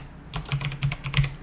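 Quick keystrokes on a computer keyboard as a folder name is typed, a short burst of about half a dozen close, clicky taps with no talking.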